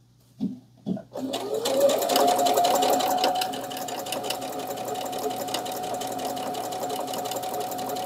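A sewing machine stitches a tea coaster. Two soft knocks come first, then the motor starts a steady whirring hum with a sustained tone that runs close and continuous to the end.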